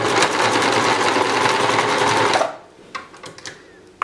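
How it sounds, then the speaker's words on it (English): A sewing machine stitches steadily and loudly at a fast, even rhythm for about two and a half seconds, then stops, leaving a few faint clicks and handling noises. "So here we go. We're gonna sew."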